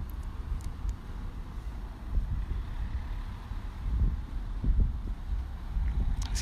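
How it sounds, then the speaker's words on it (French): Wind gusting at roughly 15 km/h outdoors during an electric scooter speed test, a steady low rumble of microphone buffeting that swells in bursts, with no speech. "Il y a un petit vent."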